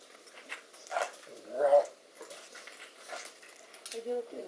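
A dog whimpers and whines nearby in a few short, tonal bursts, with people chatting in Czech around it.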